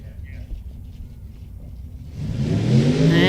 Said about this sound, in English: And here come the burnouts.